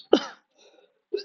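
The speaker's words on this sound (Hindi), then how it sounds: "गाइस मुझे खांसी आ रही" One sharp, close cough bursts out alone in a quiet room, followed by a short faint rasp of breath and a smaller throaty sound.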